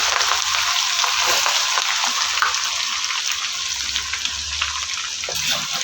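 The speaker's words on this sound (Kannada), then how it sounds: "ಸೇಮ್ ಒಂದು ಎಣ್ಣೆಗೆನೆ ಬೆಳ್ಳುಳ್ಳಿ ಮತ್ತು ಶುಂಠಿ ಹಾಕೊಳ್ತಾ ಇದ್ದೀನಿ" Garlic and ginger fry in hot oil for fish pickle, a loud steady sizzle with occasional stirring scrapes.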